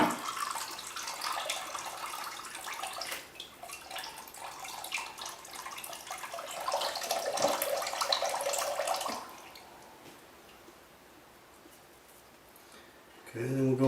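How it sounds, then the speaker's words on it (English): Coconut water drains out of a cracked raw coconut into a bowl. It makes a steady close splashing trickle for several seconds, then stops. "So just let the water run out."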